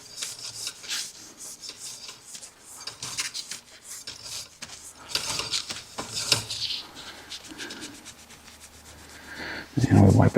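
A cloth wipes a coating across a blue magnesium Porsche GT4 RS wheel, giving soft, irregular rubbing and swishing strokes up close, with a few louder scuffs and a brief clunk at the end.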